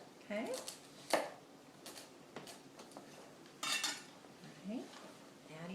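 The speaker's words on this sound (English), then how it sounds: "So we're using some organic celery here. I'm going to slice that up a little bit here." Knife slicing organic celery on a board, a series of short crisp chops spaced irregularly, close and fairly clear, with a voice talking over parts of it.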